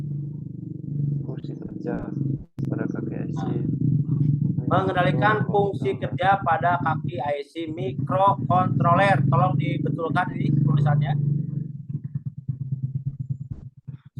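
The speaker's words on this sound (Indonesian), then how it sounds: "Suara apa ini? Suara motor." A motorcycle rumbles outside as a low, steady engine drone lasting most of the stretch, staying underneath someone talking continuously before fading out near the end.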